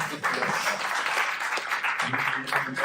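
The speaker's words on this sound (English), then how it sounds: "some applause for the answer" Brief audience applause for an answer during a panel talk on staff and principal developers, a dense patter of hands lasting a few seconds with a faint voice underneath.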